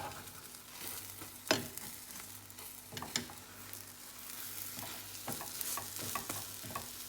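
A Goan ros omelette frying in a hot pan at a street food stall, with a steady close sizzle broken by occasional sharp scraping and stirring knocks of a utensil, no voices over it.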